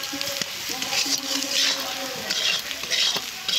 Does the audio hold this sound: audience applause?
no